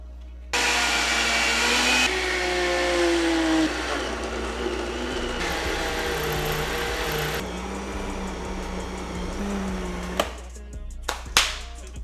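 A blender blending sofrito vegetables starts up and runs loudly, its motor pitch shifting as the speed changes, then stops, followed by a few faint clinks.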